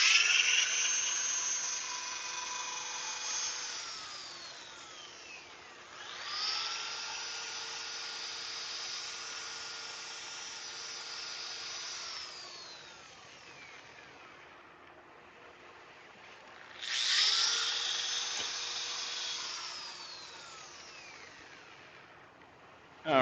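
An angle drill sands a turning wooden piece on a lathe, giving a steady high whine with a buzzing edge that fades out and swells back in several long passes, without talk.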